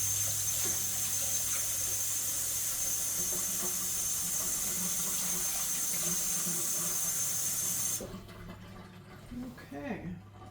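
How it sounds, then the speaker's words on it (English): Kitchen tap water pours steadily into a bowl in the sink, a loud, even rushing stream for about eight seconds before cutting off, followed by faint handling sounds. "I'm going to go put this in the sink and put water in this bowl."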